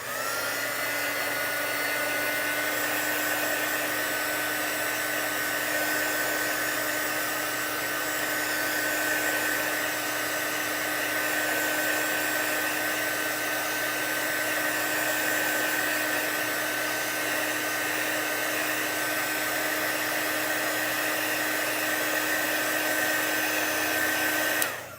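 Hair dryer blowing steadily to dry chalk paint, a loud continuous whine and rush that holds unchanged for the whole stretch before cutting off at the end.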